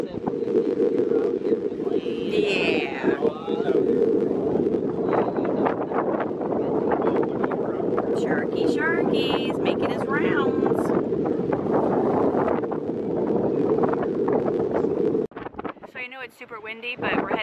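Strong wind buffets the microphone on Pensacola Pier in a loud, continuous roar that hides most other sound, while voices talk faintly beneath it.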